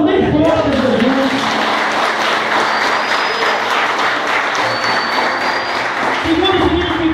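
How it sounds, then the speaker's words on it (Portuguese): A church congregation applauds loudly during a sermon, a sustained wash of clapping with a brief voice at the start and another near the end. "Dê um aplauso bem forte, Jesus"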